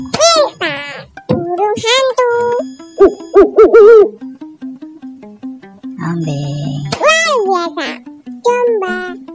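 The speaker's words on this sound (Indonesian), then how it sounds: "Burung hantu." Repeated owl hoots from an animal-learning toy, clear and loud, alternating with a child-like synthetic voice and tonal melody notes.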